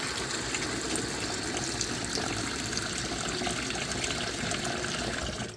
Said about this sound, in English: And immediately put some cold water.